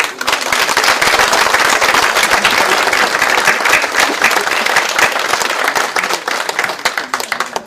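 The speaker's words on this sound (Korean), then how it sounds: "앞에 계신 우리 여섯 분의 우리 원내 사립탑의 후보들에게 큰 박수 보내주시기 바랍니다" Lawmakers at a Democratic Party floor-leader election in Korea's National Assembly applaud six candidates, a loud, crackling burst of many hands clapping in rapid, dense strokes that persists unbroken and tapers slightly at the end.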